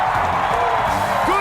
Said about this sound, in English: Let's give Shaq a big round of applause